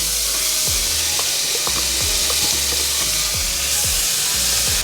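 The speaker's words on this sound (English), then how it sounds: "And now I'm gonna add the tomatoes." Tomatoes hit a hot pan of translucent cooked onions for taco filling and fry with a steady, loud sizzle and crackle, with soft stirring scrapes underneath.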